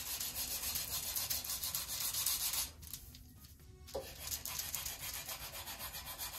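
A sanding bar rubs back and forth over a sheet of balsa wood on a model airplane flap, giving a steady rhythmic scratchy hiss up close that stops briefly in the middle and then resumes.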